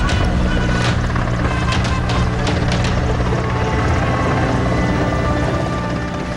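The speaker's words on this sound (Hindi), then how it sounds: "फूलों की बारिश करते हेलीकॉप्टर" Helicopter flying overhead while showering flower petals on hospitals during the Corona lockdown, a loud, steady rotor drone filling the whole stretch with a faint rhythmic chop.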